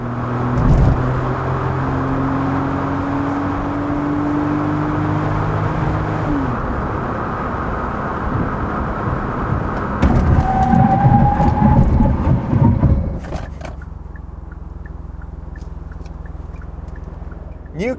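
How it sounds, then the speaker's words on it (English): A 2021 Kia Picanto brakes hard from speed to a full stop. The engine and road noise begin as a steady drone, then swell into a rough rumble and cut sharply to a quiet idle. "why don't we check out the braking performance of this new Kia Picanto"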